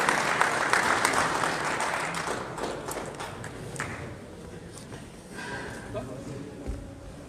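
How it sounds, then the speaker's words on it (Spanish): An audience at a government talk applauds to welcome a speaker, a dense burst of clapping that is loudest at first and then gradually thins and fades, with some voices mixed in. "Con un fuerte aplauso recibimos a nuestro hermano Juan Ramón Quintana."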